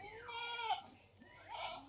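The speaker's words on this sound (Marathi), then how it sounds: "दोघंजणं शेळ्या वरडायला लागले" Goats bleating nearby, two wavering, drawn-out cries in quick succession with a faint human voice murmuring underneath.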